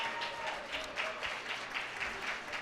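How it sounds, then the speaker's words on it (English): Audience applauding at a direct-care workers' rally in a theater, a moderate wash of clapping heard from some distance, with a faint voice or tone running faintly underneath. "let's give them a big round of applause"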